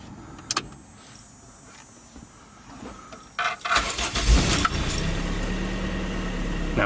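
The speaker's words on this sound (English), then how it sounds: "Now we have a running car." After a quiet pause with a couple of clicks, a car engine cranks and catches once the fuel pump is switched on, then settles into a loud, close running rumble.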